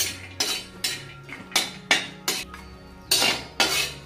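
Fried cashews and almonds are stirred in a pan with a metal spoon, giving about ten sharp clinks and scrapes in an irregular rhythm, close and fairly quiet with no voices.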